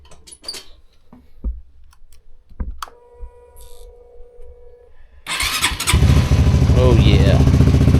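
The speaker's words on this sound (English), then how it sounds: "Let's see if the little CT will fire up here." A Honda CT125 motorcycle cranks and fires up, its engine catching abruptly and settling into a loud, steady, close idle after a few quiet handling clicks and brief talk beforehand.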